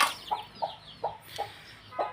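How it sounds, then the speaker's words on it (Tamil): Hens cluck near newly hatched chicks in a farmyard coop: a series of about five short, distinct clucks at an uneven pace, close and clear, with faint high chirps between them. "2 கோழியில் பொறிச்ச குஞ்சுகள்"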